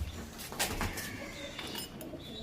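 Pigeons coo softly and close by in a loft, with faint knocks and rustles mixed in.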